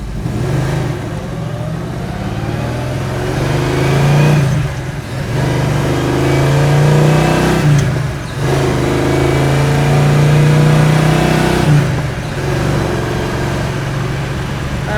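A 1967 Chevrolet Chevelle SS engine pulls hard while driving, its steady mid-range roar rising and falling through gear shifts with brief dips between pulls, loud and close with no talk.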